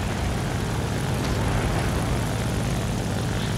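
A Hawker Hurricane fighter's propeller engine in War Thunder, a loud steady droning roar that holds close and constant throughout, with no voices.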